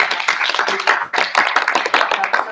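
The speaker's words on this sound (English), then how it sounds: "another round of applause to our" An audience at a high school speech team recognition night applauding, dense steady clapping from many hands filling the room, loud and sustained with no voices over it.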